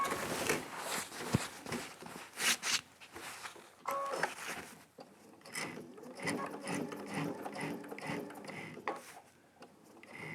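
A sewing machine with a walking foot stitching in the ditch on a quilt, giving faint, uneven mechanical clicking and whirring bursts, with pauses and handling noise in between.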